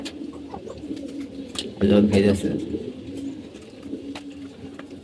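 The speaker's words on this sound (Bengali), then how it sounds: "অনেক পেয়ার কবুতর আছে" Many pigeon pairs coo while feeding, soft repeated calls near and far under a person's brief speech, with a louder burst of cooing in the middle.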